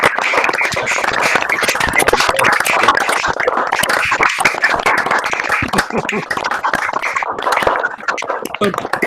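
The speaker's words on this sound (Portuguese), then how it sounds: "liguem seus microfones para uma salva de palmas" Online attendees of a physics lecture clap through their microphones, giving a loud, uneven patter of many separate claps with a slightly compressed, broadcast-like quality that continues throughout.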